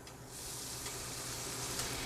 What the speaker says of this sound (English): If it sizzles like this, it's ready.